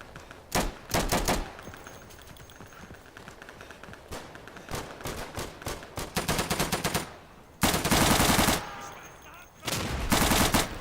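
Rapid bursts of automatic gunfire from the game Day of Infamy, loud and close, come in several volleys with short gaps, including long sustained sprays near the end.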